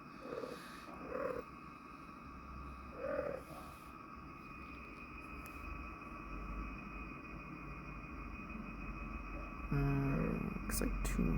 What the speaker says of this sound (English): My cat's trying to get on my lap.